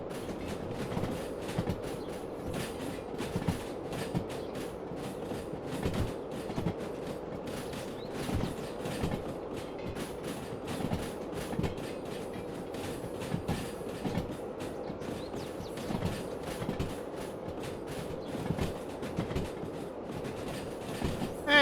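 A freight train in the Derail Valley video game rolls along the rails with a continuous heavy rumble and rhythmic clickety-clack of wheels over joints, loud and steady throughout with no voices.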